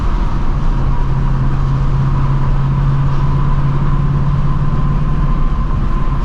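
A 2024 Ford Mustang GT drives at night with a steady, loud exhaust drone and engine rumble, a constant low hum held throughout with no talking.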